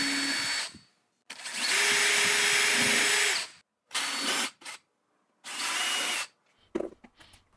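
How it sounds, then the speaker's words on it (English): A power drill drilling pilot holes into wood whirs in several bursts, one long run followed by shorter ones, close and loud with silent gaps between. "So now I'll drill pilot holes for the screws."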